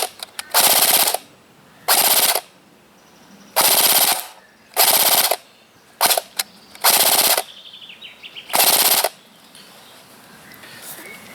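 Several short bursts of rapid full-auto fire from a Cyma CM.060 airsoft gun at about 1000 to 1200 rounds per minute, each about a second long, separated by brief pauses, loud and close.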